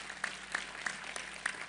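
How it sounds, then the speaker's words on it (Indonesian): An audience at an Islamic religious talk claps faintly and sparsely. A few distant, evenly spaced claps sound over a quiet room. "Tepuk tangan untuk Anda semua."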